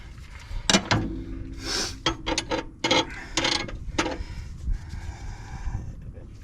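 A wrench turns a new, tight ball joint on a 2006–2010 Dodge Charger, giving a series of short metallic ratcheting and scraping bursts, close and uneven, with some faint background voice.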